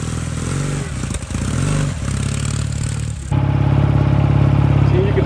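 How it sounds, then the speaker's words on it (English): A Ural sidecar motorcycle with two-wheel drive and a four-speed gearbox runs close by, a steady mid-pitched engine drone with mechanical clatter that swells louder and fuller partway through as the ride gets under way. "This is my first time ever riding in a sidecar."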